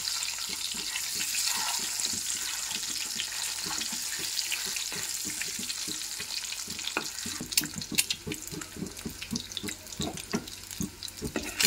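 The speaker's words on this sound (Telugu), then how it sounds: "ఈ విధంగా ఎగ్స్ కొంచెం కలర్ చేంజ్ అయ్యేంత వరకు ఫ్రై చేసుకుంటే సరిపోతుంది" Boiled eggs shallow frying in oil with turmeric and salt, a steady soft hiss and crackle of sizzling with scattered pops and faint stirring clicks, fairly quiet and close.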